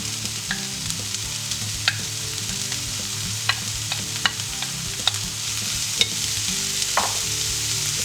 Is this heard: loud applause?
no